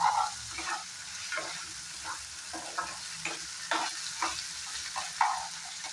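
Tomato, onion and other vegetables fry in hot oil for a masala sabji, a steady close sizzle broken by repeated stirring scrapes, with no talking.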